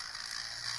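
A self-balancing CMG gyroscope motor, rated to about 20,000 RPM, spinning up with a steady, close, high-pitched whir and a faint rattly mechanical texture, heard alone without any talk.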